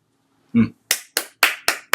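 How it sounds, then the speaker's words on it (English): One man gives five sharp hand claps in a quick, even rhythm, loud and close, after a single short spoken word. "Talia means clap."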